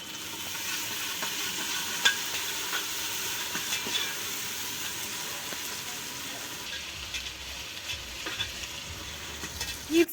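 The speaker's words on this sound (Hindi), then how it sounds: "यीस कालस गंड तो रुहन फ्राई गस" Onion and garlic fry in hot oil in a home kitchen pan, a steady sizzle with stirring scrapes and occasional clinks running throughout, with no talking.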